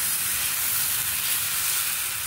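Dosa batter sizzles on a hot pan for a Rayalaseema-style Kadapa karam dosa, a steady, close, bright hiss of frying that carries evenly throughout with no voices.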